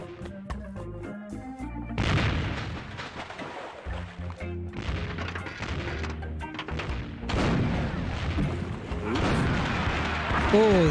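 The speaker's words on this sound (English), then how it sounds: "Let's use the cannon." Deep booming blasts from a cannon in the video game Curse of Monkey Island thud repeatedly amid rumbling effects and music, with someone talking over the noise.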